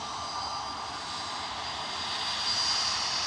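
An Airbus A321neo jet airliner lines up on the runway at Manchester Airport, its engines humming with a steady whine that builds in loudness over the last second, heard alone.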